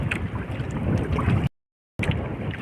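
Wind gusts roar over open water beside a boat, a steady broadband rush that cuts out briefly and returns.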